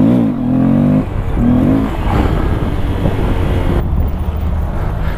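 A motorcycle engine climbs and drops in revs while practising wheelies, throttle rising then cutting off, with heavy wind buffeting the microphone at close range.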